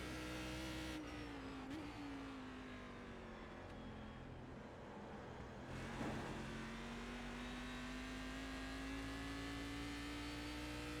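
A Cadillac CTS-V race car in the iRacing sim at the Nürburgring Nordschleife revs steadily, its engine a sustained droning whine that dips briefly, then climbs again under throttle on a steep uphill stretch, with faint tire noise beneath.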